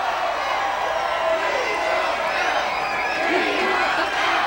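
A crowd at a 2000 campaign rally in New Orleans cheers and whoops continuously, a dense roar of voices with scattered shouts rising toward the end.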